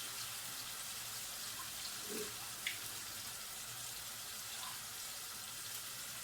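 Tap water runs into an emptied tomato can to rinse out the leftover juice, a faint, steady hiss with a few small clinks and splashes.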